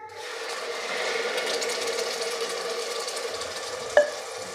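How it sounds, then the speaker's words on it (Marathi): Chole masala paste is sautéed in oil in a pan, a soft steady sizzle with stirring scrapes and a sharp clink of a utensil near the end. "आता हे वाटण आपल्याला तेल सुटेपर्यंत परतून घ्यायचं आहे"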